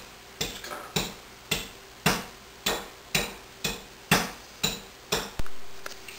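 Sharp, evenly spaced pounding strikes of a hammer mashing spices, about a dozen in a steady rhythm, each a crisp close thud with no talking.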